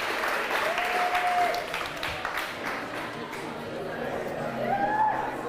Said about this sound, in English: Ladies and gentlemen, a huge cheer for this historic moment